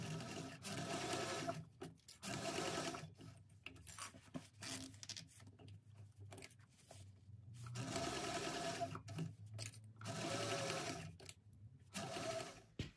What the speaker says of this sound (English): now we're going to baste that together with an 1/8 inch seam allowance.